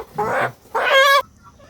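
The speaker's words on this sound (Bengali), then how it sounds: "দেখেন এখানে যে বড় মুরগিটা আছে সেটা ধরছি" A large tiger-breed chicken gives two short, loud clucking squawks while being caught by hand, separated by a brief pause, with no voices over it.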